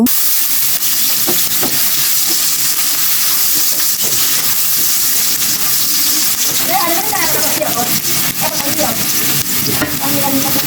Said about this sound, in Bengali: এখন হালকা হাতে পেঁয়াজগুলাকে নেড়ে চেড়ে নেব